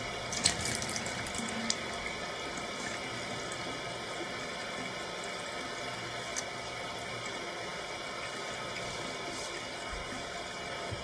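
Water runs steadily from a tap into a sink while an arm is washed for wudu, a constant close hiss with faint splashes and no talking.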